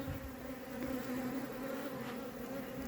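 Honey bees buzzing around a hive, a steady, faint droning hum of many insects with no pauses and no voices.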